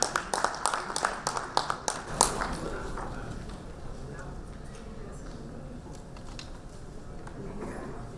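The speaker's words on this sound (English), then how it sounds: "Ladies and gentlemen, let's give them a huge round of applause." A crowd at a stage award ceremony gives a round of scattered applause. Sharp claps fill the first two seconds, then thin out, and a voice talks over the rest.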